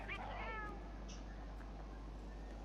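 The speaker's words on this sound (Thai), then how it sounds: "แมวเราบอกว่า เพื่อนกิมมอคิมของเรา บอกว่าจะช่วยเราในการสำรวจด้วยล่ะ" A single short, high meow from a cat companion in the video game Monster Hunter World, heard near and clear at the start, then low game ambience with a steady hum.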